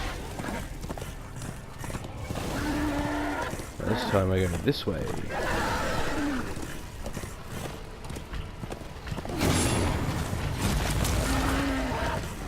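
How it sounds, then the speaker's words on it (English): A horse gallops in the video game Darksiders II Deathinitive Edition, its hoofbeats clopping in a quick rhythm beneath game effects while someone talks over the gameplay. "Riding my horse."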